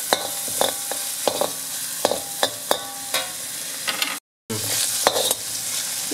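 Red and dry chillies frying in hot oil for a broccoli and chicken stir-fry, with a loud, steady sizzle broken by repeated sharp scrapes and clinks of a spatula stirring in the pan.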